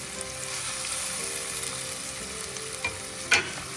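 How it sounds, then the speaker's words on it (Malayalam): Onions frying in plenty of hot ghee in a pan, a loud continuous close sizzle with a couple of sharp stirring clacks near the end, no talking. "ചീനച്ചട്ടിയിൽ നല്ലതായിട്ട് ചൂടായ നെയ്യിലേക്ക് സവോള ഇട്ടു."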